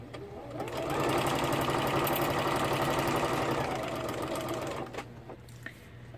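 A sewing machine stitches small quilt pieces together in a rapid, even whir that builds quickly, runs steadily for about four seconds, then stops and leaves a few soft clicks.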